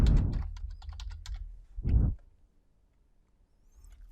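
Brief, quick typing on a computer keyboard while entering code in MATLAB, a burst of close, light key clicks followed by a couple of heavier thumps, then near silence.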